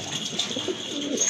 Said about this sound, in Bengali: এই যে দেখেন ডাকাডাকি কিন্তু শুরু হয়ে গেছে।